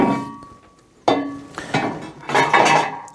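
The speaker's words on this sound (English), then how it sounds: "it's a very thin, non-stick type of frying pan" Metallic clanks and ringing knocks as a light, thin non-stick frying pan is handled and set down, a few sharp hits followed by rattling contact, close up.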